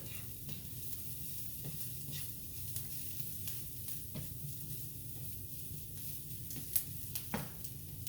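Vegetables sizzling in olive oil in a home kitchen pan, a steady hiss throughout with occasional scraping taps of a utensil, near and fairly quiet, with no talking.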